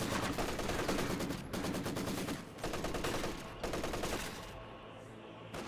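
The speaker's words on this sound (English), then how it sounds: "the MG34 nearby is making it a little bit difficult" MG34 machine gun fire in a World War II strategy game: long, rapid bursts of close, loud automatic fire separated by short pauses, ending in a quieter stretch.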